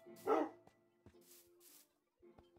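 A Minecraft wolf, a husky-like dog, gives one loud bark followed by a few quieter yips and barks with short gaps, alone without talk.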